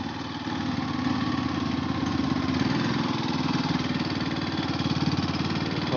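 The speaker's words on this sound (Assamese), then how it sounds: "এইটো JCB কিমান ইয়াত কাম কৰি আছে" A JCB excavator cutting into a hillside runs with a steady, chugging diesel engine throb at moderate distance, droning continuously without pause; no voices are heard.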